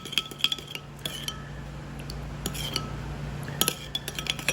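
A spoon stirs salt into a vinegar salad dressing in a bowl, making repeated bright metallic clinks and scrapes against the bowl in irregular clusters over a low, steady room hum.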